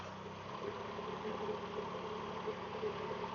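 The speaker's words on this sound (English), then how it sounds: "And just pick the revs up." A narrowboat's diesel engine on a countryside canal cruise, a steady close chugging hum that swells slightly as the revs rise and then holds even.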